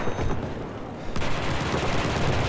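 Rapid gunfire from a Battlefield 4 multiplayer match on the Shanghai map, loud bursts of shots and battle noise filling the whole stretch, with a sharp crack partway through.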